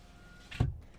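The driver's power window of a 2022 Chevrolet Colorado ZR2 gives a brief motor whir with a soft thump at the end, quiet and close inside the cab.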